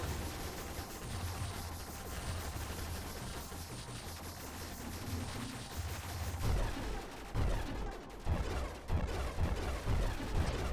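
A ship's weapons in the Nova Drift space shooter fire in a dense, rapid stream of crackling shots, with heavier booming impacts building toward the end, steady and fairly loud throughout.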